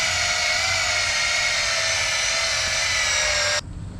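A power drill boring out a Toyota Hilux G shackle, a loud, steady high-pitched whine that runs continuously, then stops abruptly near the end, leaving low background noise.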